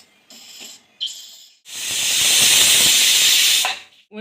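A pressure cooker on a medium gas flame cooking egg biryani lets off steam in two short hissing bursts, then a long, loud, steady blast of hiss that cuts off sharply, with no talking.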